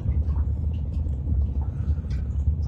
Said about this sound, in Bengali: আর এই হচ্ছে কাকুর ট্রলার